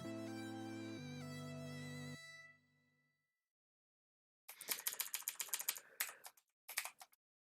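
Typing on a computer keyboard while setting up game macros, a quick run of close, crisp key clicks in an uneven burst followed by a few scattered presses, after a fading musical tone, with no talk.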